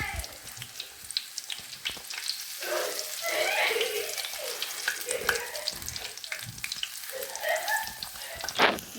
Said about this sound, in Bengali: এই যে এখানে আমাদের বেগুনি ভাজা হচ্ছে